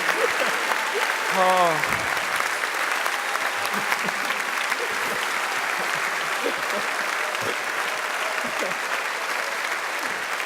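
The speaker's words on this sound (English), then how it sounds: "Round of applause for Paolo for his amazing voice work." Steady applause and cheering fill a hall as a PAX West Witcher panel audience claps at length, loud and continuous, with a brief voice and some talk rising over the crowd.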